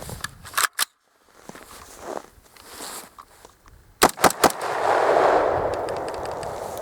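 A firearm shoots steel case ammunition in a sub-zero cold weather test, giving several sharp cracking shots in uneven clusters with gaps between them, followed by a sustained hissing rumble.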